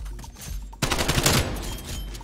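An AK74U fires in Black Ops Cold War, a sudden close burst of rapid automatic shots that cuts in sharply after a quieter moment and rattles on briefly.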